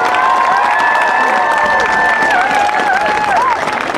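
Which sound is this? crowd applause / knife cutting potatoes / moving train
crowd applause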